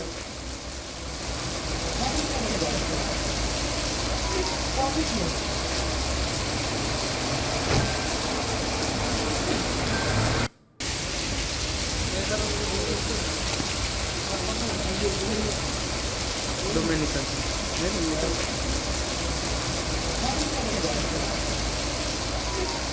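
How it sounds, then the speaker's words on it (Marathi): Heavy rain roars in a dense, constant wash near Belapur station in Navi Mumbai, with a low vehicle rumble underneath, broken by one brief silent cut midway; a voice speaks briefly. "जोरदार पाऊस आहे"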